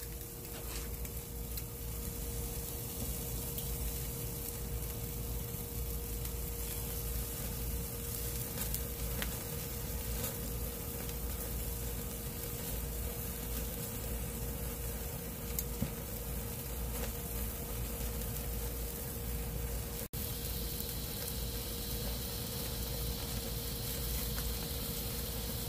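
Picanha searing on a Weber grill, a steady close hiss of sizzling fat that runs continuously without any talk.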